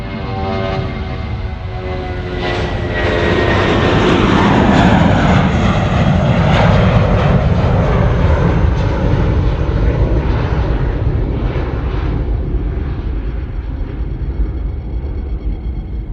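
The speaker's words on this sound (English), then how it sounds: "The Jetstar now rolling. 34 right, coming out to play." A Jetstar airliner takes off from runway 34 right at Sydney Airport, its engine roar swelling into a loud, sustained rumble that peaks mid-roll and then eases slightly as the aircraft accelerates away.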